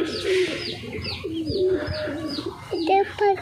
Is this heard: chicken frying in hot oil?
no